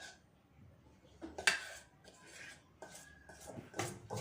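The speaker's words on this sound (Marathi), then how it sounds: "बेसनाचं मिश्रण तुपामध्ये टाकल्यानंतर छान असं साधारणतः पाच ते सात मिनटं साधारणतः आपल्याला हे कंटिन्युअसली फिरवत राहून" Besan and gram flour mixture being stirred in hot ghee for mohanthal, with scattered soft scrapes and light metallic clinks of a spoon against the pan, faint and irregular.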